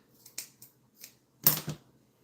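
Scissors snip off the end of knotted craft string at close range: a few quiet clicks, then one sharper, louder cut, with no talking.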